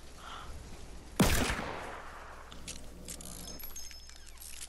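A single loud gunshot or blast in Fortnite, sharp and close, followed by a decaying tail and quieter game sounds with a few faint clicks.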